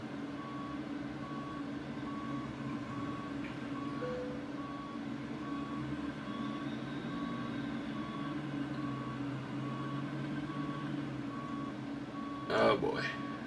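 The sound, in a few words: truck reversing beeps while backing a trailer, from a video game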